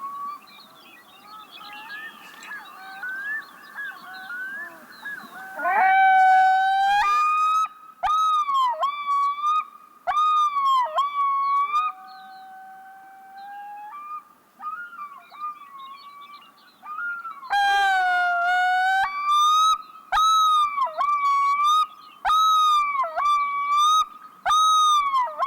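White-billed divers and a Pacific diver calling across a northern Canadian landscape on Victoria Island: long, loud, wailing yodels with rapid repeated tremolo notes, one bird near and another far off, ringing out over quiet.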